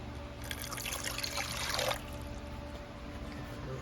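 Water pours and trickles over gold refining precipitate as it is rinsed, a close, steady splash lasting about a second and a half before it cuts off, leaving a quiet background hum.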